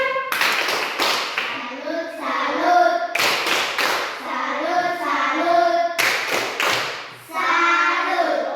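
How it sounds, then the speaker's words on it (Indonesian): Children in a classroom clap in three rhythmic bursts of sharp, patterned hand claps, each followed by voices chanting together in a sing-song cadence. "Tepuk tangan semuanya dulu"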